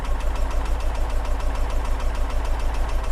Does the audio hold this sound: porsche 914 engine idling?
yes